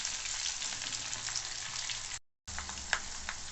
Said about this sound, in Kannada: ಒಂದು ಕಡ್ಡಿ ಕರಿಬೇವು, ಬೆಳ್ಳುಳ್ಳಿ ಸ್ವಲ್ಪ ಕೆಂಪಗಾಗೋವರೆಗೂ ಫ್ರೈ ಮಾಡ್ಕೊಬೇಕು.